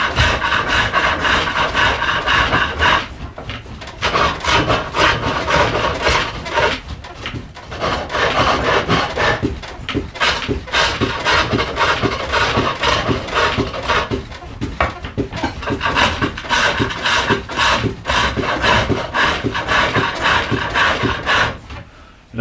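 Skew chisel cutting wooden stool stiles spinning on a lathe, a loud continuous scraping and rasping hiss with brief gaps as the tool lifts and returns, close and without speech.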